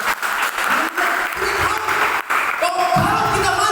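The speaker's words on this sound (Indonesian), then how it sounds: "Berikan tepuk tangan bagi Tuhan." A church congregation claps for God during an Indonesian sermon, steady dense applause filling the room for a few seconds.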